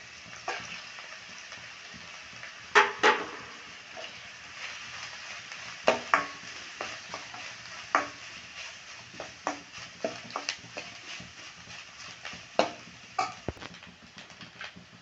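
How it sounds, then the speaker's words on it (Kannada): Onions frying in a pan with soft sizzling under scattered stirring scrapes and light clinks of a utensil against the pan, fairly quiet and close. "ಚೆನ್ನಾಗಿ ಫ್ರೈ ಮಾಡ್ಕೊಂಡಾದ್ಮೇಲೆ ಕಾಯಿ ತುರಿ ಹಾಕ್ಕೊಳ್ಳೋಣ. ಈಗ ಈರುಳ್ಳಿ ಫ್ರೈ ಆಗಿದೆ."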